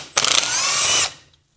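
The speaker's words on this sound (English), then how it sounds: "I'm pulling all these little bolts out," A power tool backs out a small bolt from the oil pan of an 87 FXRS-SP Harley twincam primary on a bench, starting with a few quick ratcheting pulses and then settling into a short steady high whir that stops abruptly. The sound is loud and close, with no voices.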